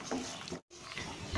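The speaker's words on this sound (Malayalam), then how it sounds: "ഞാൻ ഈ കടലയൊന്ന് നന്നായിട്ട് വറുത്തെടുത്തിട്ട് വരാം" Chickpeas and urad dal roasting in a pan for a coconut-free, shallot-free chutney, giving a steady close rasping stir and faint crackle that breaks off in a brief silence midway, then resumes.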